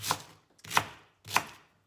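Three sharp knife chops on a cutting board while chopping vegetables for kimchi, evenly spaced about half a second apart, crisp and close with short decays and no talking.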